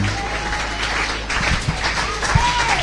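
A church congregation breaks into applause to acclaim God, a dense burst of many hands clapping at close range, with a voice speaking over it in the room.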